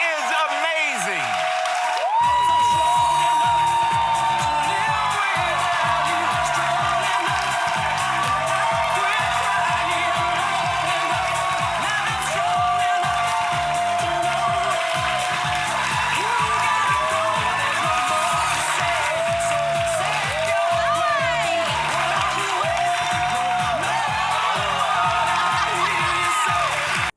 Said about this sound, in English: You saw those people clapping in the crowd, in the audience?